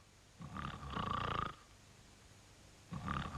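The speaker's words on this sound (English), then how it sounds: "He was snoring." A cartoon character in bed snores loudly in a deep, rasping rhythm, two drawn-out breaths followed by the start of a third after a pause, with no talking.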